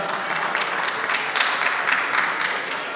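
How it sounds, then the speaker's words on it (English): A crowd at an awards ceremony applauds steadily, a dense wash of clapping that stays fairly even throughout. "Give them a round of applause for all the hard work they have done."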